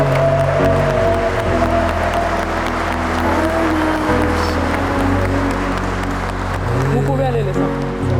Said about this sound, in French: Faisons un applaudissement à ce jeune couple.